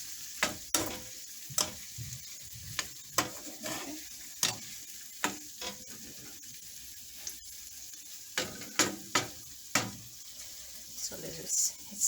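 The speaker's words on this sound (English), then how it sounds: "and then saute" Broccoli sautéing in a pan with cayenne for a broccoli and cheese omelette, a steady sizzle broken by repeated clatters and scrapes of stirring, with some running water and faint movement nearby.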